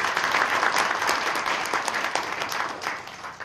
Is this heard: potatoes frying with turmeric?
no